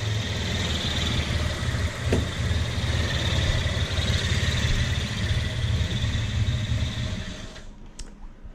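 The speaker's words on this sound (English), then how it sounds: "the engine idles even nicer again" A fuel-injected car engine idles smoothly after a slightly richer fuel mixture is set. The low, even rumble holds steady and close for most of the clip, then drops away near the end.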